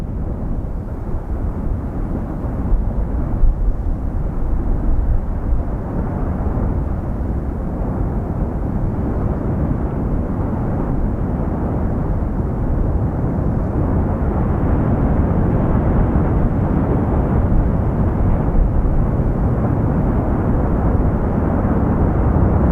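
Steady loud rumbling roar from an erupting Icelandic volcano, a continuous boiling churn of lava heard from above as a drone flies over, with broadband noise and no talk.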